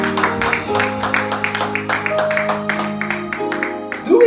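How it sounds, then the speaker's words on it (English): Church congregation clapping hands together in praise, a dense rhythmic run of claps over sustained music with a voice rising near the end. "Let's give God a hand clap of praise."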